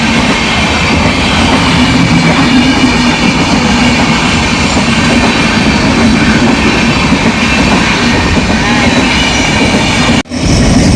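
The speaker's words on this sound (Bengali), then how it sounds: "ট্রেনের পর ট্রেন এসেই যাচ্ছে, আমাদের যেতে দিচ্ছে না।" A train passes close by at a level crossing, a loud, steady rumble of railcars with rolling wheel clatter that fills the whole stretch and drops out briefly near the end.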